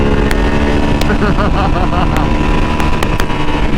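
A 2020 Ducati V2 motorcycle rumbles steadily while being ridden, its engine drone close and continuous under heavy wind noise.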